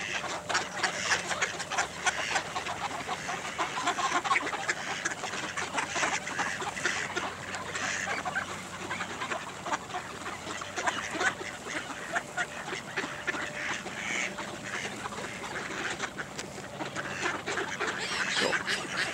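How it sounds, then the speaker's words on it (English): A crowd of ducks quacks nonstop and close at a duck farm in winter. The dense, overlapping chatter fills the whole stretch without pause. "look out, ducks. I'm practically stepping on them."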